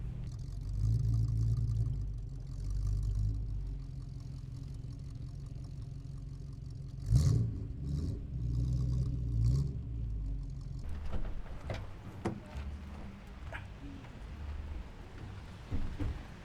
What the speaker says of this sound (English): We're going up a hill in 4th gear